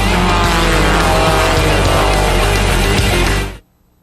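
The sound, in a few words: race cars at the Grand Am Cup, California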